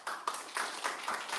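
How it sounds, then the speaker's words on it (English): An audience at an exhibition artist talk gives a short burst of scattered clapping, several people clapping unevenly in a room. "Another little round of applause for our artists."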